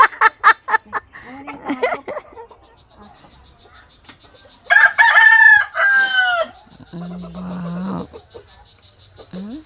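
Chickens cluck in quick bursts, then a rooster crows loudly nearby, followed by more clucking and squawking.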